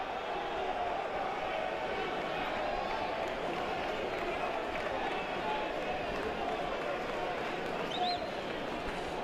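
Hometown crowd at a college baseball game, Central Arkansas hosting LSU, reacting to a failed bunt with a faint, distant murmur and scattered noise spread across the whole stretch, with an announcer talking over it.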